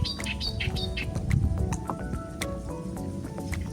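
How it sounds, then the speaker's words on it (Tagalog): Scattered bird chirps and calls, bright and intermittent, over a steady outdoor background at a fishing spot, with no talking. "Rinig na rinig yung huni ng ibon eh."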